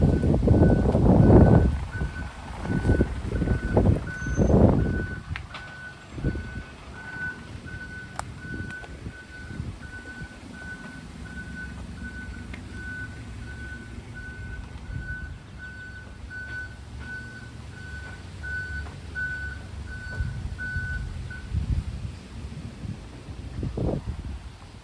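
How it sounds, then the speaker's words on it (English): A lorry's reversing alarm beeps in a steady, regular series in the distance, under wind noise and rumbling close to the microphone. "so that's what the beeping is there. The reversing lorry,"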